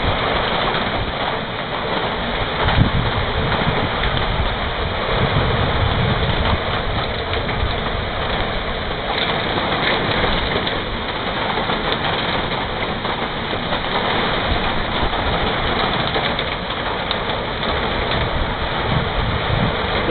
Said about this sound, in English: we're having a tornado. It's starting to come in all around us. It's blowing down my little flower garden.